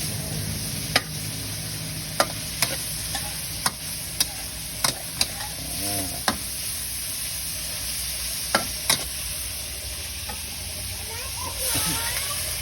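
A holy basil stir-fry sizzles in a wok, with a constant crackling hiss and regular sharp taps and scrapes of a spatula against the metal at close range.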